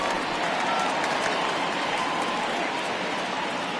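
Simulated stadium crowd in a baseball video game roars in a steady, dense wash of cheering and applause, loud and continuous throughout with no distinct voices standing out.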